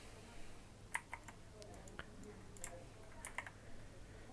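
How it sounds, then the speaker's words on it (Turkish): Light, irregular keystrokes on a computer keyboard, a few quiet clicks scattered over a low background hum. "Sonra adım yazıyorum mesela."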